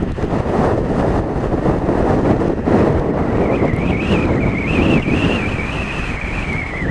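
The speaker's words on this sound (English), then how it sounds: "Well, I don't know whether you can hear the wind." Strong wind buffets the microphone in a constant low roar while riding a BMW K75 motorcycle, with a faint wavering tone rising in the background.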